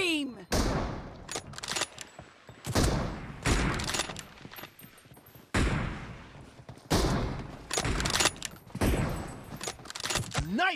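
Loud, close gunfire in the BGMI mobile battle game comes in repeated bursts of rapid shots separated by short pauses, with game voice callouts heard between volleys.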